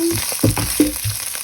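Ginger sautéing in a pan for pork curry, a close crackling sizzle with a few sharp spatula scrapes and spits over the short stretch.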